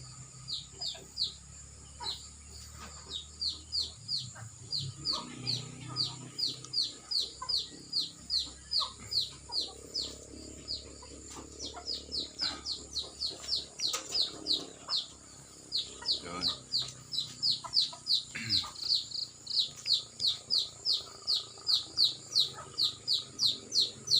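Chickens cluck while being fed in a quiet mountain area, their rhythmic, repeated high chirps and clucks continuing close by for the whole stretch, with faint background noise and occasional soft voices.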